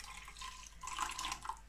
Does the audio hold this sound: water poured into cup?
yes